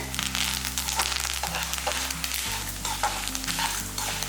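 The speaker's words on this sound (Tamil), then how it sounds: "இந்த சூட்டுலேயே இது கொஞ்சம் நல்லா வதக்கட்டும்." Steady crackling sizzle of curry leaves frying in hot oil in a pan, close up, with a low constant hum underneath and occasional stirring clicks.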